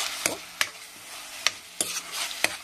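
Onions with ginger garlic paste frying in oil, a steady sizzle broken by several sharp scraping stirs of a spoon in the pan, close up with no talking.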